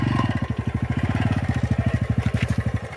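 A motorcycle engine chugs in a steady rapid rhythm, loud and close, with a continuous rumbling putter throughout.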